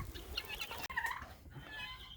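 Chickens clucking on a farm in cold weather, several soft fowl calls and clucks at moderate distance over a faint, noisy background, with no talking.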